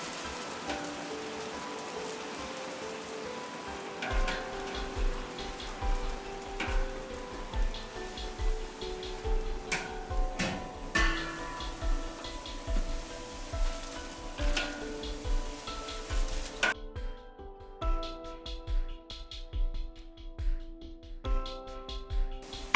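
Potatoes fry in hot oil in a pan for a traditional Turkish breakfast, with a steady crackling sizzle. Clattering utensil knocks punctuate it at a regular rhythm, and a quieter stretch near the end leaves sparse pops.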